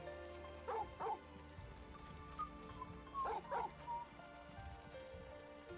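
A dog in the video game Final Fantasy 16 barks in short paired woofs, two quick pairs a couple of seconds apart, over a steady background of game sound.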